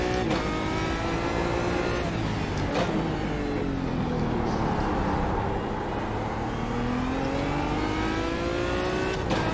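A GT1 race car screams through a lap in iRacing, its engine loud and close, rising and falling in pitch through gear shifts and corners, steady throughout with no talking.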